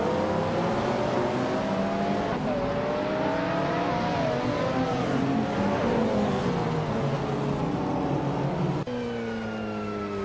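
A 1995 Lamborghini Diablo with a V12 engine races in a video game, giving a loud, steady engine drone whose pitch rises and falls through gear changes, with no speech.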